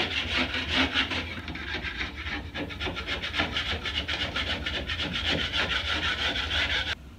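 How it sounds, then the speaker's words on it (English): A wide drywall knife scrapes dried joint compound off a wall, giving a rapid series of close, rasping strokes in a steady rhythm that stop abruptly near the end. "now we're gonna take our wide knife and we're gonna scrape off all the little dimples that we had from yesterday"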